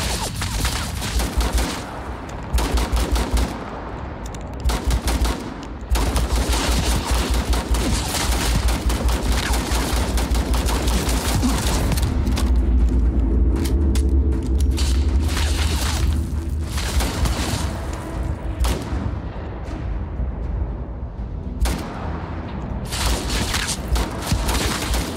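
Sustained gunfire in the space shooter Starfield on a low-gravity planet, with dense bursts of rapid shots and booming impacts running nearly continuously, loud and close, broken only by brief pauses.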